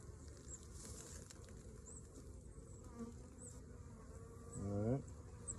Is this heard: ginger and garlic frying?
no